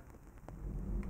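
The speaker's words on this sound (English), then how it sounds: "We have a thunderstorm just going on at the moment" Thunder rumbling from a thunderstorm outside, a low swelling roll with a steady hiss of rain, heard from indoors and moderately loud.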